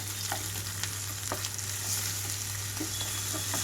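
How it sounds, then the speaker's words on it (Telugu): Ginger garlic paste fries with onions in a pan over a medium flame, a steady dense sizzle with occasional stirring scrapes, continuous and close, with no voices. "పేస్ట్ కూడా ఒక థర్టీ సెకండ్స్ పాటు మీడియం ఫ్లేమ్లో ఉంచి వేయించుకుంటున్నాను"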